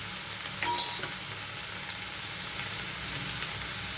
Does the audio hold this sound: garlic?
yes